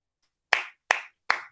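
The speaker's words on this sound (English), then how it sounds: "That's all the applause." Three sharp, separate hand claps ring out in a quiet space, evenly spaced about 0.4 seconds apart, each one crisp and close with a short decay.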